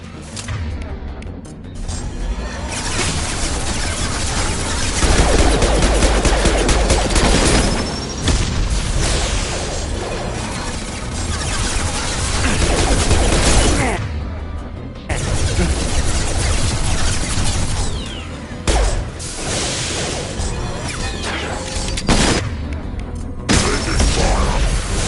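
Continuous combat in the sci-fi shooter Mass Effect 2: loud, dense layers of gunfire and heavy explosions rumble without pause, with booms and crashes piling over a thick low-end roar.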